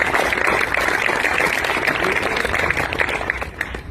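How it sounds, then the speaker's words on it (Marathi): Dense, sustained applause from a school audience at a student writing-competition event, with many hands clapping together at steady loudness for the whole stretch, easing slightly near the end. "आपण सगळ्यांनी एकदा टाळ्या वाजवून"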